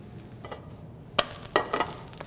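A pinto bean quesadilla cooks in a pan with a soft, steady sizzle, broken by a few sharper clatters and scrapes near the end.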